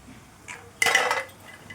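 Fried star sweets are lifted out onto a plate with a sudden close clatter of utensil against dishware, then quiet kitchen background.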